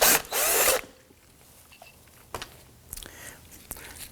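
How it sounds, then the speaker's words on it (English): A 14mm socket on a power tool loosens the rear brake caliper bracket bolts of a 2018-2024 Toyota Camry, with a loud whirring burst at the start, then quieter clicks and short tool bursts. "we're going to go ahead and use our 14mm socket, loosen and remove the bolts"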